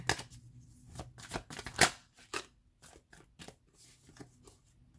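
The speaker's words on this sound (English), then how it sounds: "All right, last shuffle." Tarot cards being shuffled by hand, a run of crisp riffling snaps and soft papery flutters in uneven bursts, close and moderately loud, with no talking.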